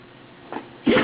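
A dog gives a quick, sharp sneeze after a faint snort, close and brief.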